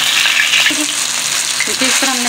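Pressed Peshawari chapli kebabs fry in hot oil with a loud, close, continuous sizzle, and a few spatters and pan scrapes come through near the end.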